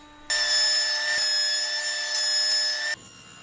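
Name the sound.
planing wood pieces down in thickness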